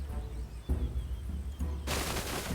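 Gunfire rings out in a Humankind video game battle as a steady rumble of shots and booms, followed by a harsh, loud crackling volley at the end, with no one talking.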